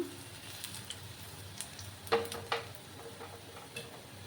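Jute leaf fritters shallow frying half-submerged in oil in a pan, a quiet steady sizzle with a couple of sharp clinks of a utensil, close by and without voices.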